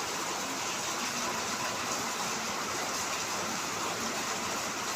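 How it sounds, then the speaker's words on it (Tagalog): Rain falls on Christmas morning in Muntinlupa, a steady, dense broadband hiss of downpour heard continuously and fairly faintly, with no voices. "O ayan, umuulan."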